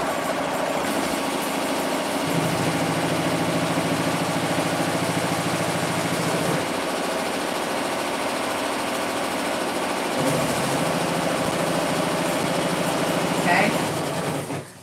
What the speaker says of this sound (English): So while this is sewing